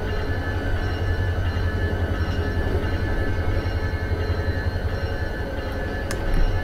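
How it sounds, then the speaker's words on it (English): An AI-controlled train rolls past in the Run8 train simulator game, with a continuous heavy rumble and sustained tonal droning at an even loudness, ending with a faint metallic clank. "That's my AI train here."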